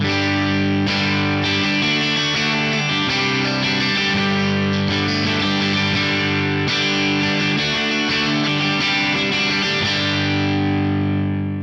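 Electric guitar with both pickups on through a Vox amp, light crunchy overdrive, chiming bright chords ringing out continuously and loud, no voices.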